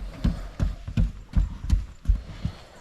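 Goat hooves clatter across a wooden bridge at the Kolmården Wildlife Park petting zoo, about seven distinct, fairly close knocks in an uneven trotting rhythm with no talking.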